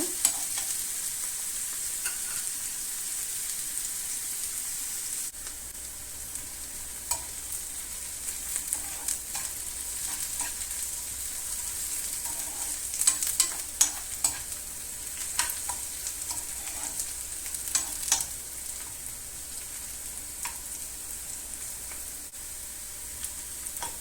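Sliced onions fry in a pan for a shakshuka base, a steady close sizzle running throughout with scattered scraping clicks of a spatula stirring them, no voices.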